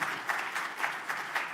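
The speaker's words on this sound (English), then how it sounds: "So Thank you very, very much to our panelists, if you can give them a round of applause." Audience applause for the panelists at a European Jewish Association delegation event at Auschwitz, a faint, steady patter of clapping with slight rhythmic swells across the short span.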